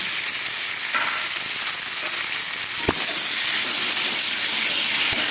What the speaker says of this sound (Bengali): সেই কড়াইতে আবার একটু তেল দিয়ে দেবো। এতে আবার ফুলকপি আর আলু ভেজে নেব একসঙ্গে।